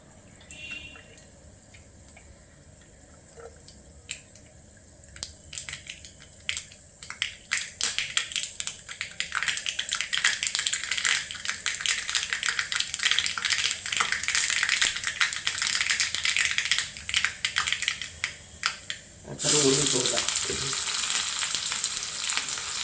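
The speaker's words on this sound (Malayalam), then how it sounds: "കടുക് പൊട്ടട്ടെ കേട്ടോ കടുക് പൊട്ടിക്കഴിയുമ്പോൾ നമുക്ക് കുറച്ച് ചുമന്നുള്ളി ഇട്ട് കൊടുക്കാം" Mustard seeds crackle and pop in hot oil, building up and growing dense, then a louder sizzle surges near the end as shallots are added to the pan.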